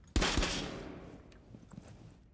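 A sharp burst of video game gunfire in a round-based shooter, one loud volley near the start followed by a decaying tail and a few faint later pops, with no talking.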